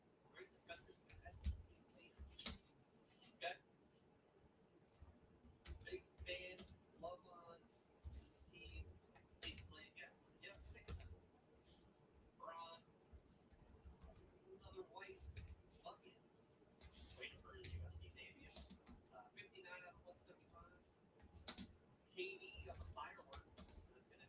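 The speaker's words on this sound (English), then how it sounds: "The keyboard in my lap and it didn't want to type." Fingers typing on a computer keyboard resting in a lap: soft, irregular clusters of clicks and taps, faint and fairly close, with quiet voice sounds around them.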